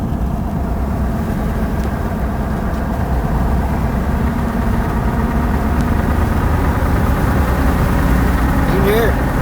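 Steady low road rumble and mud-tire drone from inside a moving 2016 Ford F-150 XLT at about 50 mph, continuous and fairly loud throughout.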